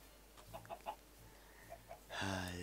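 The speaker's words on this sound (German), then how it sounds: "Guck mal, 2 Hühner." Short, soft clucks from chickens in Minecraft come in scattered bursts, followed by a louder, sustained squawk near the end.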